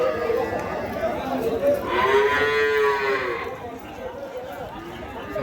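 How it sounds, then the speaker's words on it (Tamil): A Jersey cow at an open cattle market in Vaniyambadi gives one loud, drawn-out moo of about two seconds, nearby amid crowd chatter and market noise, with someone talking around it. "ஸோ ஒரு ஜெர்சி மாடு."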